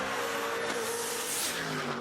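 A stick-shift Cobra Jet Mustang at a drag strip, its rear tires spinning, roars loud and close with a high-revving engine and a rising screech under the din, no talk.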